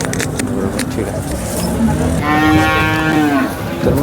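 Cows at the Sangola cattle market let out a long, loud, drawn-out moo close by, against a background of crowd chatter and a passing vehicle.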